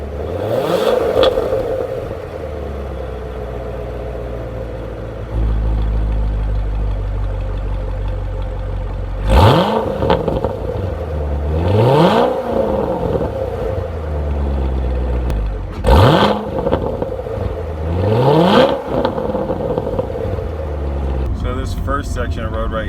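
A C7 Corvette accelerates on the road, its engine rising and falling in several repeated revving sweeps as it shifts through gears, loud and close inside the car over a constant road rumble.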